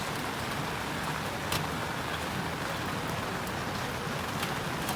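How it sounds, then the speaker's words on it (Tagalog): Heavy rain pours down outdoors in a dense, unbroken roar with occasional louder drips and splashes close by, steady throughout. "Napaka-maulan ngayon. Nakikita nyo ba? Ang ulan oh."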